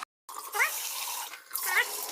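Water swirls around basmati rice in a pan filled close to the top, a steady close sloshing wash with a brief gap at the start and two rising swirls.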